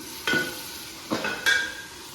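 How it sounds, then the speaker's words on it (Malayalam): A ground paste of tomato, green chilli, garlic and ginger sautéing in a pan: a low background sizzle broken by three short scraping stirs, the last with a faint metallic ring. "ഈ തക്കാളിയുടെ പച്ചമുളക് നല്ല മാറി വരണം"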